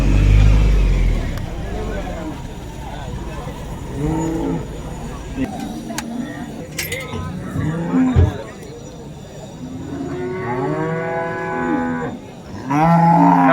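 Holstein Friesian and Jersey cattle moo several times with long, low calls at Chinapuram, set against a noisy outdoor background where people talk and a vehicle rumbles.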